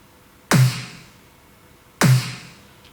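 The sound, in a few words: EDM snare with amp sim sample turned on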